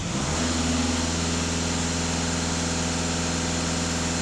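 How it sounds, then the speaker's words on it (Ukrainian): A car engine on a Euro 6 emissions system, just after cleaning, runs steadily and loudly, rising briefly in revs early on and then holding an even, humming drone, with no talk. "Зараз машина після моєї чистки, дам обертів."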